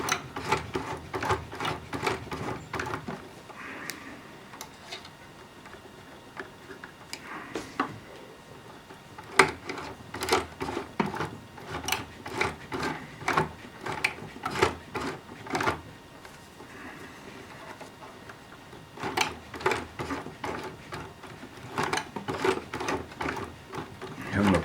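Sewing machine stitching fabric under a heavy presser foot, a quiet, uneven run of rapid mechanical ticks in short bursts and pauses throughout.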